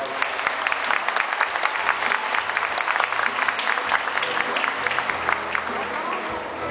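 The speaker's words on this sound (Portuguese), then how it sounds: "Salva de palmas." Applause from an audience at a ceremony where bouquets are handed over, with dense, continuous clapping that stays loud and steady throughout.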